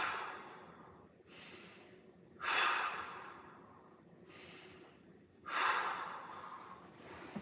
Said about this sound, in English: Nice big breaths, 3 of them.